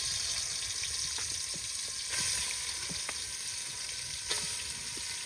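Chicken frying in hot oil in a home kitchen, a steady loud sizzle with scattered crackles and pops, one sharper burst partway through, no talking.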